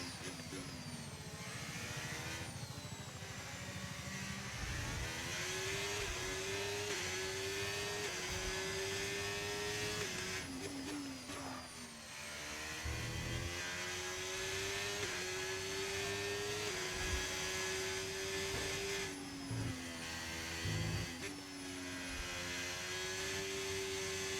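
Racing car engine in a sim race at Jeddah leaving the pits, a loud continuous revving whine climbing through gears with brief drops at each shift, steady and close throughout.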